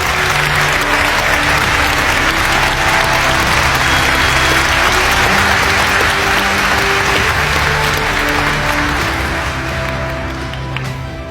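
A large audience applauds steadily to welcome a speaker to the podium at a Cal Poly leadership event. The dense, sustained clapping stays loud throughout and tapers slightly at the end, with no talking.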